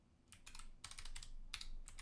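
Someone types a password on a computer keyboard in quiet surroundings, with several quick bursts of close key clicks in an uneven rhythm.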